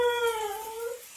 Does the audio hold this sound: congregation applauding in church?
no